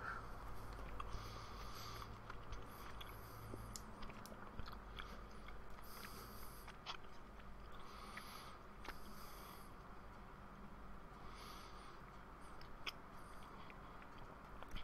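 Soft apple-flavoured Japanese chewy candy being chewed close up, a quiet continuous sticky mastication with small wet smacks and occasional sniffs, faint and alone with no talking.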